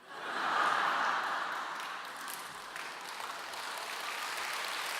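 A church congregation at a retreat bursts into applause, a dense rush of clapping that swells quickly, peaks early, then settles into a steady, slightly softer wash.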